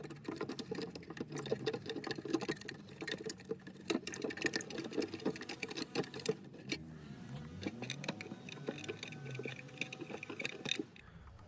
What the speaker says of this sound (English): here I'm going to remove all three bolts